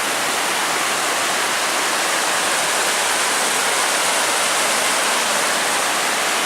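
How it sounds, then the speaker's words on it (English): A small waterfall along the Superior Hiking Trail pours in a steady, loud, close rush of broadband water noise that fills the whole stretch without pause and without any voices. "Look at that little waterfall right there."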